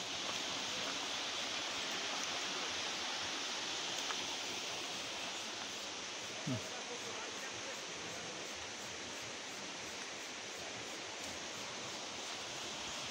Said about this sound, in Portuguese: Olha o barulho da água, ó.